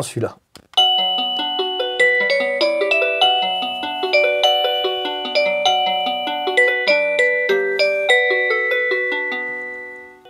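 An Avantek Carillon D-3B wireless doorbell plays a bright, loud multi-note chime melody for about ten seconds, ringing steadily before fading out, with a brief voice at the start.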